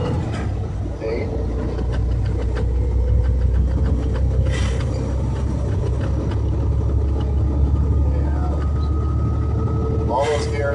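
A semi truck engine rumbles low and steady while accelerating through gears up to about 35 mph, a continuous droning cab noise with faint clicks from shifting.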